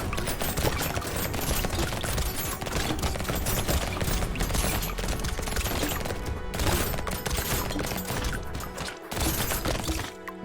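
Constant rapid SMG fire in the arena shooter Brotato rattles along without pause for about ten seconds, dense and loud, with layered hit and impact effects and a short break near the end.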